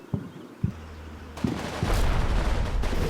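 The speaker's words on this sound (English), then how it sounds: "You may hear some explosions in the background." Explosions and gunfire from the WWII tactical video game Combat Mission: Battle for Normandy, with several sharp distant bangs, then a loud sustained rumble of heavy firing that builds toward the end.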